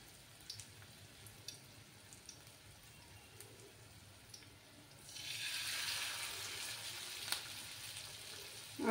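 Curry leaf pakoras frying in oil over a low gas flame, a soft steady sizzle that swells noticeably louder halfway through as more pieces go into the pan, with a few faint clinks and no talking.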